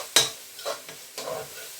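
Onions are stir-fried for chicken and prawn fried rice, giving a few quick scraping stirs over a soft sizzle in the pan, with one sharp clatter at the start.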